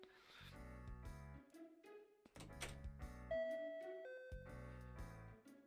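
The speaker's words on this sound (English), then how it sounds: "the doorbell suddenly rings" A video game doorbell rings over background music, sounding as clear tonal chimes that step between pitches, with no speech.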